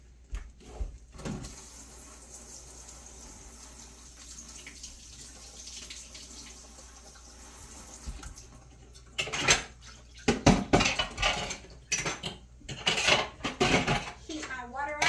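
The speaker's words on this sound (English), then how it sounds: "Heat my water up so I can fill my sink to wash my dishes" Water runs from a faucet into a kitchen sink while dishes and cutlery clatter and clink, starting quietly and turning into busy, close washing noises in the second half.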